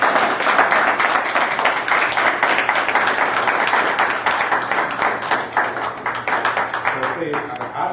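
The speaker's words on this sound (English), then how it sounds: "I'd just like for us to give Grandma a round of applause." Luncheon audience applauds for grandma, steady close clapping from many hands that continues throughout and gradually thins near the end.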